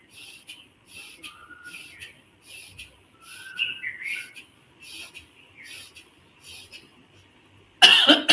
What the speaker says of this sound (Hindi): प्रारंभ में जब हम इस तरह करते हैं तो खांसी आती है